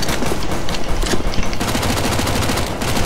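Dense, rapid gunfire from several weapons in CS:GO zombie escape mode, loud and continuous throughout with overlapping shots, no clear talk over it.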